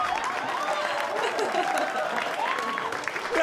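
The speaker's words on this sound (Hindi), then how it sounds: "बट एक बार जोरदार तालियां जेनी जी के लिए, कम ऑन" A studio audience at a comedy talent show applauds steadily and loudly, a dense sustained clapping with some crowd noise mixed in throughout.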